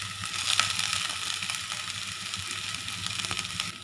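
Ginger garlic paste and chopped green chilli frying in hot oil, a steady close sizzle with a few brief crackles and stirring scrapes throughout, no voices.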